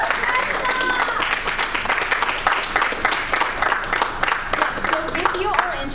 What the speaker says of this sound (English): Round of applause for all of our combatants today.